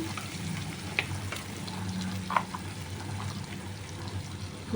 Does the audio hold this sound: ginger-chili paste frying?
yes